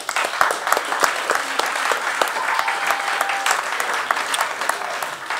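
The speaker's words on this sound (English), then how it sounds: "a round of applause for Mr. Merrick" Steady audience applause fills a live jazz concert by a quartet at Rich Mix, a dense even clatter of many hands, fairly close and loud, with no talk over it.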